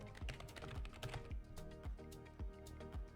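Fingers typing on a computer keyboard, a quiet, close run of irregular key clicks with short pauses and no one talking.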